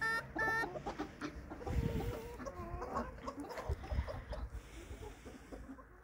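A flock of chickens clucking in a backyard coop, several birds close by giving repeated soft clucks and short calls at a moderate level, with no talk over them.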